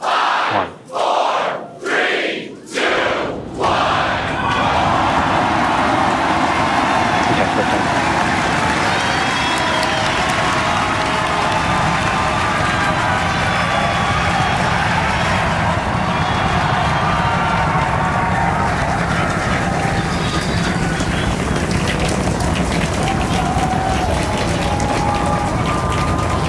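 A SpaceX Starship Super Heavy rocket lifts off on Flight 6. A few sharp clicks come first, then a loud, sustained crackling roar that fills the whole stretch and holds steady without fading.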